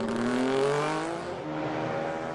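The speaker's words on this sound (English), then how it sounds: "The bike sounding superb." A 500cc racing motorcycle engine at speed in a 2015 road race, a revving, rising then easing engine note passing close by, loud and alone.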